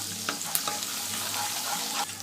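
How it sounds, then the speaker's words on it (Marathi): Crushed ginger, garlic and cumin seeds fry in hot oil for a Khandeshi dal and brinjal dish, giving a steady close sizzle with a few brief stirring scrapes and no voices. "आलं लसूण ठेचून घेतलेलं चांगलं तेलावर परतवून घ्यायचं आहे"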